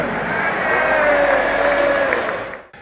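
Stadium crowd at a Roma football match roaring an ovation for striker Artem Dovbyk, a loud, sustained wash of cheering and applause that swells and holds before cutting off abruptly.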